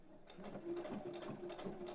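A sewing machine stitches the seam of a throw pillow with a fast, steady mechanical whir and rapid needle clatter, close up and moderately loud, with no talking.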